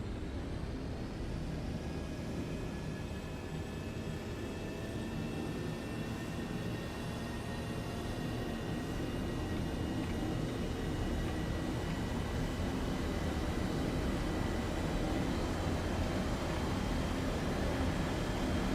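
F-5E jet in War Thunder rolling down the runway for takeoff, a steady loud turbine roar with high whining tones slowly rising in pitch throughout, no voices.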